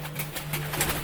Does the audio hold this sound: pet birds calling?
yes